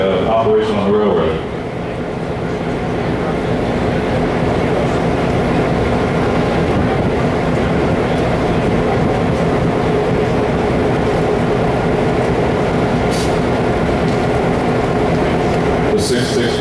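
A classic diesel streamliner passenger train, an E or F unit, rumbles past at close range, a steady heavy roar that lasts throughout, with a voice speaking faintly over it.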